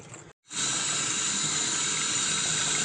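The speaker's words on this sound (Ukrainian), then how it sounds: "Викладуємо на друшляк і заливаємо, обливаємо холодною водою, обдаємо всі качани." After a brief pause, cold water gushes steadily from a tap, splashing continuously over corn cobs in a colander.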